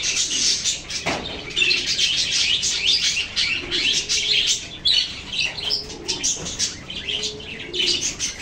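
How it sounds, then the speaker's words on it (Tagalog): Parakeets chirping in a cage at a pet market, busy high twittering close by with soft cooing pigeons mixed in and occasional wing flutters. "At ito yung pampito kong kulungan ng parakeet"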